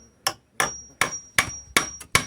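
A handheld hammer strikes in a steady series of about seven close, loud, sharp blows, each with a short ringing tail, during carpentry or smithing work, with no talking.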